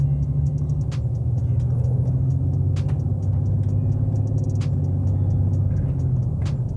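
A Jeep Cherokee XJ engine with an aftermarket Borla exhaust idles continuously, a deep, steady rumble with a throaty low drone, faint ticking clicks scattered over it.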